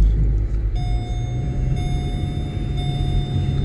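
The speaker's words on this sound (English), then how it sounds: "And we got gear shifts on a conventional automatic transmission." A VW Passat B6 with a conventional non-DSG automatic gearbox, running a rusEFI standalone ECU, drives along shifting gears. A steady low engine and road drone carries a few thin whining tones, with a slight change in the sound early on.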